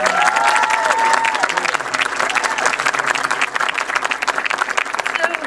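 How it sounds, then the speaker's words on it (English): A crowd applauds steadily and densely for several seconds at an outdoor trail opening ceremony, with a little cheering mixed in and a voice briefly heard at the start. "let's have one more round of applause for Mayor Rahm."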